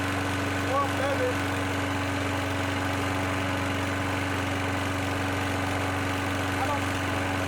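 Small repaired lawnmower engine running steadily after being found in the trash, a constant low drone with a strong humming tone, moderately quiet and unchanging throughout.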